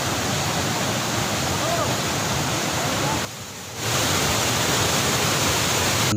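A waterfall in the Panchalingala Kona valley pours with a constant loud hiss of rushing water, dipping briefly in the middle before returning at full strength.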